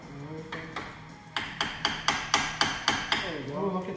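Front brake parts on a 2012–2019 Jeep Grand Cherokee SRT are tapped with a makeshift hammer, a steady series of about a dozen sharp metallic knocks, close and ringing, with a voice briefly at the end.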